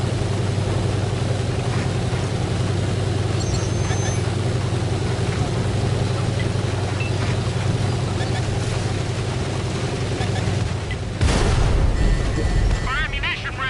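In World of Tanks, a tank's engine drones steadily and loudly until, near the end, a sudden sharp blast tears through as its ammunition rack is hit and explodes.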